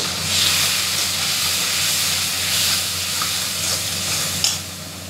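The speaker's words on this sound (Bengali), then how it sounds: "নাড়ছি।" Food being stirred as it fries in a pan with a little water, turmeric and salt, a loud continuous hiss and sizzle with soft scraping swells from stirring, close by and without talk.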